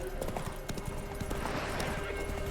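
Roach, the horse in The Witcher 3, gallops in a steady run of hoofbeats against a busy game soundscape, with faint voices in the background.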